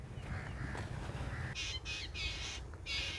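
Birds calling on a village morning, several short squawking crow-like calls repeating in bursts, moderately distant over a low background hum.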